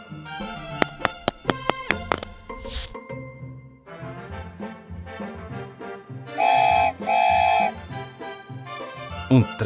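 A cartoonish train whistle sounds two bright, sustained toots over playful, bouncy children's music in a colors-learning show about sand molds.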